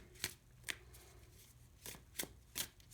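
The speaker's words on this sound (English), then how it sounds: "So we'll just shuffle the cards" Tarot cards from the Wild Unknown deck are shuffled by hand, giving five quick crisp riffling bursts spaced irregularly over a quiet background, close and fairly soft with no speech.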